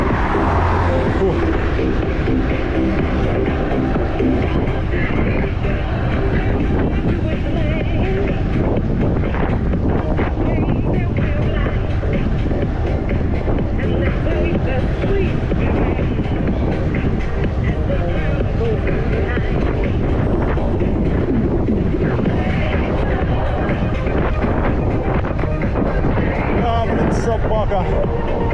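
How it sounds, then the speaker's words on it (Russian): Steady headwind buffeting the microphone while driving a turbo car along the Crimean coast near Koktebel and Sudak, a loud continuous rumbling roar throughout with talk over it. "Встречный ветер будет нам всю дорогу дуть."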